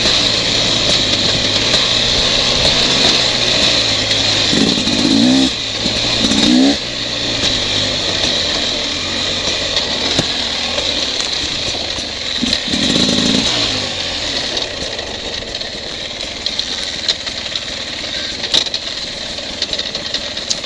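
A Beta 300RR dirt bike ridden off-road, its two-stroke engine droning loud and steady throughout with a few brief revs and dips in pitch, close to the rider.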